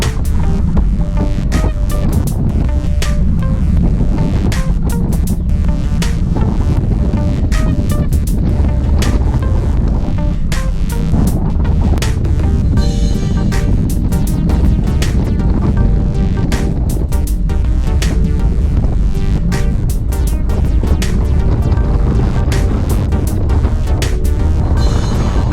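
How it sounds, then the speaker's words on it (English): Strong spring wind buffets a group bicycle ride in the Piedmont Hills, a loud, unbroken roar and rumble across the whole stretch with no letup. "Listen to that wind."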